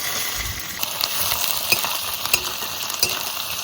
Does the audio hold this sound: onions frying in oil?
yes